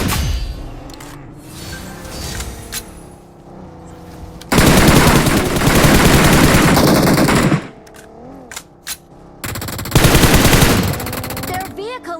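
Automatic gunfire from a game battle rattles in long, loud, close bursts of machine-gun fire, with pauses between volleys where someone talks.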